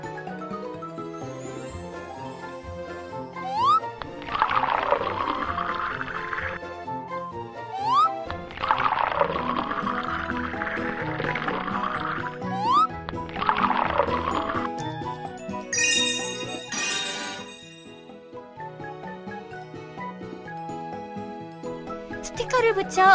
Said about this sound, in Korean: 엔진 오일을 가득 채워주세요.